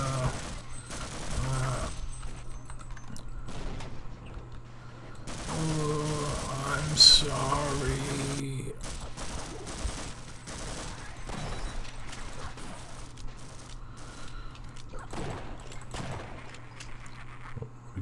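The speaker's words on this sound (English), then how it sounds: "Let's try this gun. Reload it." Gunfire from a weapon in the video game Half-Life, bursts of rapid shots and separate single cracks spread through the stretch, moderately loud over game ambience, with a person's voice reacting in between.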